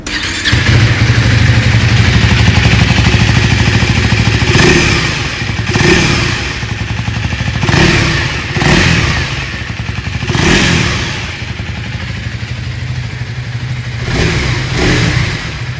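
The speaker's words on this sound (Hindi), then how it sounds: "आइए अभी सुन लेते हैं इस बाइक की एग्जॉस्ट नोट।" A loud 2026 KTM Duke 390 motorcycle with a new 350cc engine runs close by, revving hard several times in bursts with a throaty exhaust rumble between each throttle blip.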